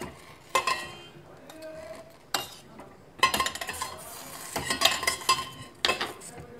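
A spoon scrapes and clinks against a metal pot as herbal tea leaves are stirred into just-boiled water, with a few sharp knocks and a steady swishing stir, close and clear, with no talking.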